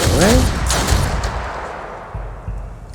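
The Soul Slinger fires in the turn-based game Othercide: a loud, close gunshot burst at the start, followed by echoing impacts and a fading tail.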